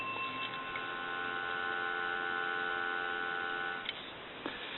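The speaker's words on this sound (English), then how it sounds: "Give you some dial tone." A steady electronic dial tone hums continuously at moderate level on a Kellogg rotary wall telephone, with a couple of faint clicks near the end.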